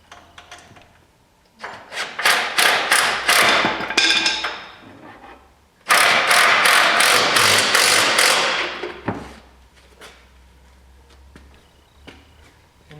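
An impact wrench tightens a bolt on a 2009 Silverado 2500HD during a SumoSprings install, firing two loud, close bursts of rapid hammering, each lasting a few seconds, with a quieter pause between them.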